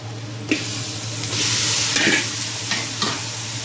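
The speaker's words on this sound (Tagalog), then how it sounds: "Ayan, gisa lang natin ng mabuti." Marinated beef pieces with bone, soaked in soy sauce, pepper and a little sugar, sautéing in a pan: steady close sizzling with several distinct scraping stirs of a utensil, no talking.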